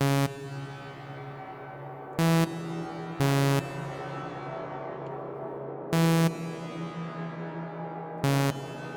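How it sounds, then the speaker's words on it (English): Bright harmonic blasts repeat at irregular intervals, each leaving a long reverberant tail from LuxeVerb reverb feedback in FL Studio 21 that drifts downward in pitch, layering into a dense synthetic wash. "This reverb is pitching itself down"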